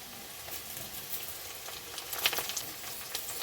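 Chopped tomato dropped into a hot frying pan while cooking bitter gourd dal, giving a soft, steady sizzle with faint crackles and a few brief louder spits.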